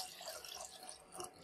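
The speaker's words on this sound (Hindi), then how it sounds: "अब इसमें हम तकरीबन 2 गिलास पानी के डालेंगे" Roughly two glasses of water poured into a pan of fried masala, spices and tomato while making tadka dal, a steady close splashing stream lasting a moment, with no voices.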